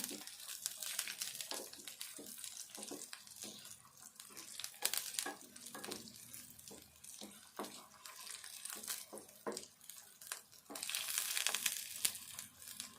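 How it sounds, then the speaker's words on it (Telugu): Eggs fry in hot oil in a pan, a quiet, steady sizzle with scattered crackles and pops, the hiss swelling a little louder toward the end. "ఇట్లా ఈ నూనెలో ఈ గుడ్లు ఇట్లా వేపుకుంటే"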